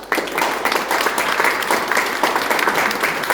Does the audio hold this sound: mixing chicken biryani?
no